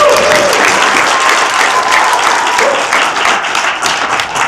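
Sustained audience applause fills a room at an interfaith breakfast as people clap for the teachers, a dense, steady roar of many hands that stays loud throughout.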